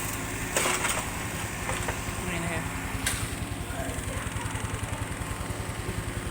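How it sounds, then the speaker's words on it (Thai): A motorcycle taxi sits waiting with its engine idling in a steady, rapid low putter, fairly close by, while a few brief knocks and clatters sound over it and talk runs beneath. "รถมอเตอร์ไซค์รับจ้างมารอแล้ว"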